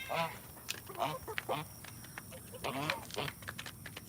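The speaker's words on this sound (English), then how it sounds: "That goose is being a bully." Geese and ducks call on a farm during morning chores, a string of nasal honks and quacks in uneven bursts, fairly close, with people talking now and then over the calls.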